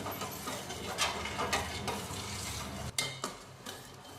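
Spoon stirring a boiling milk and sugar mixture in a pot on a gas flame for fruit salad, with a steady scraping, bubbling wash and a few sharper knocks of the utensil against the metal; no talking.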